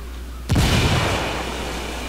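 A frag grenade detonates in Ghost Recon Wildlands after a brief quiet lead-in, hitting with one sudden loud crack and boom, then trailing off into a long rolling rumble and hiss.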